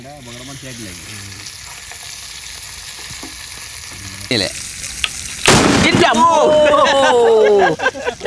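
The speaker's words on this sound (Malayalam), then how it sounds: "ഈ മുളക് മാത്രം വെച്ച് വറുത്താണല്ലോ ഭയങ്കര ടേസ്റ്റ് ആയിരിക്കും" Chili roasting in a hot pan, a loud, steady sizzle and crackle with sharp pops and spits, close up, while people talk over it.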